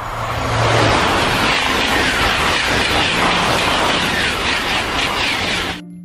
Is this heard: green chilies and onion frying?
no